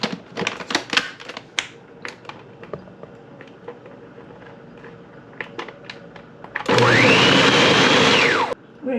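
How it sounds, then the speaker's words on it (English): A kitchen blender whirring through fruit soaked in rum and wine, running loud and steady for about two seconds near the end after a stretch of clicks and handling taps. "I'm going to blend this together"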